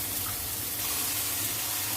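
Water pouring steadily into a cooking pot while making soupy pinakbet with ground pork, a continuous close gushing splash with a low rumbling undertone throughout.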